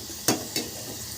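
Asafoetida fries in hot oil in a pan while a spoon stirs it, giving two brief scraping sizzles over a quiet bed of frying. The sounds are close, with no talking.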